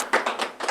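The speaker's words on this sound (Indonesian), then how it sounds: "tepuk tangan teman-teman" A small podcast studio audience claps in short bursts as a guest is welcomed, brief, close and lively with no talk over it.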